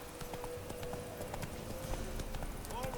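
Horse hooves gallop at speed in The Witcher 3, a steady rapid clip-clop beat running throughout over a dense outdoor game ambience, fairly loud and close.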